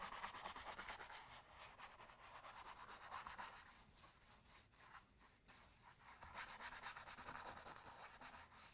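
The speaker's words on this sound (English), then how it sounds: "this is a little 1-inch brush, and I'm just taking it and sort of scrubbing it" A small 1-inch paintbrush scrubs back and forth on an artist's board, giving a faint, close, continuous bristly rubbing with uneven strokes and no voices.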